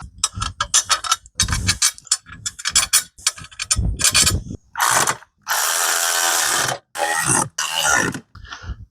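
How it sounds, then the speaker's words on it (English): A hand ratchet tightens bolts on a motorcycle mounting plate during a B200RSV swap, giving close, rapid clicking bursts separated by short pauses, with sustained longer runs of ratcheting near the end. "let's get this bolted down"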